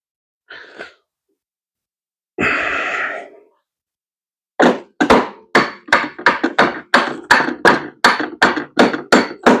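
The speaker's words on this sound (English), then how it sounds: "We're going to bang on this nut, or sorry, bolt, with a hammer." Two short breathy noises, then a run of about fifteen sharp metallic hammer blows on a bolt, fairly regular and loud, close up.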